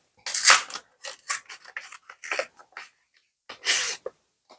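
Foil booster packs of nature-themed collectible cards being torn open, a run of sharp crinkling rips in bursts, with a louder tear near the end, close up with no talk.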